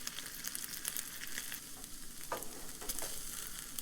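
Hoisin shrimp frying with green onion in a pan at a truck campsite, a steady close sizzle with crackling spits and a brief clatter of stirring partway through, no talking.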